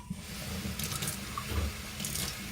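Tap water runs steadily into a sink while coffee grounds from a cold brew batch are rinsed out, a continuous close splashing wash with no voices.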